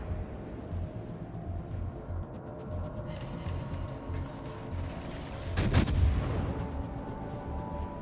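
Naval gunfire in a World of Warships game replay: a steady rumbling battle bed with a louder cracking salvo near the middle, all without talk.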